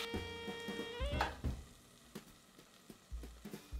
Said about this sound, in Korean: 베이컨을 볶아낸 기름에 밑간한 소고기를 넣고 센 불로 겉만 굽습니다